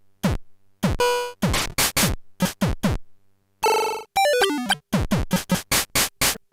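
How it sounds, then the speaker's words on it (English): Punchy electronic kick drum from a PO-20 pocket operator thumps in a steady four-on-the-floor pattern, mixed with bursts of chirpy, buzzing synth tones and a quick descending pitch sweep, all close and loud with no voices. "Let's take our kick drum here, let's give ourselves 4 on the floor."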